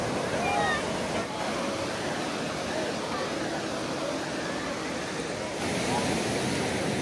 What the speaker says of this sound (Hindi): ये देखो पानी आ रहा है, कहाँ तक यहाँ पे लहर से ज़्यादा लग रही है